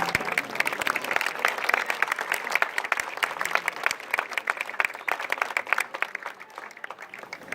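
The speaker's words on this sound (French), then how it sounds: "On peut les applaudir." A small crowd claps steadily for the workers after the casting of a new church bell, a moderate, fairly distant patter of applause that continues evenly without pause.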